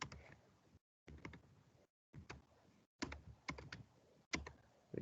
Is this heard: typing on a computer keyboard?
yes